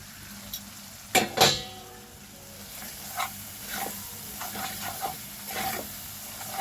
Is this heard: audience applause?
no